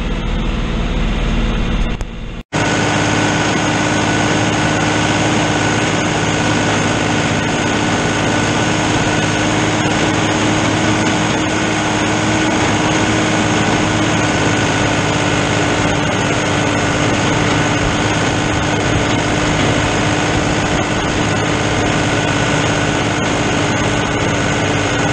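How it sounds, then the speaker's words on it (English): A tractor engine drones loudly and steadily while mowing a field during cleanup, a close, continuous mechanical roar lasting the whole stretch after a brief cut near the start. "We'll get you some footage of mowing"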